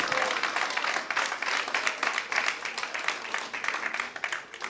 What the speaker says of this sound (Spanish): Dale un aplauso de amén y gloria a Dios.